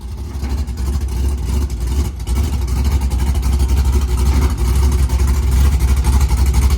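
An LS-swapped 4x4 Cadillac burnout car rumbles onto a trailer, its engine loud and close with a deep, uneven throb that builds slightly as it climbs.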